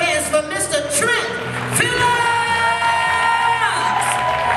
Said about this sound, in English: Clap your hands for Mr. Trent